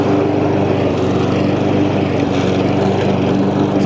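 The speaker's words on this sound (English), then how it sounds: "It's a lot faster than the old black self-propelled mower, but it's still not as fast as a riding mower" Honda HRX 217 self-propelled push lawn mower running steadily at close range, a loud, continuous engine drone with a low rhythmic pulse, cutting grass with no talk over it.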